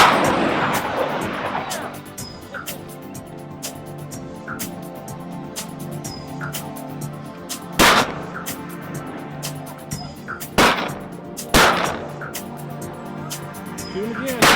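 Gunshots from a shooting video game ring out as a few sharp, loud bursts spread across the stretch, over a constant game background with distant pops and talk.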